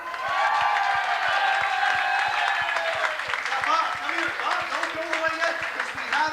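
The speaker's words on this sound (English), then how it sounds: "Thunderous applause for Bob." An audience at a 1995 comedy magic show gives a volunteer named Bob a loud, sustained round of applause. A steady rhythmic pulse runs underneath, and voices sound through the clapping.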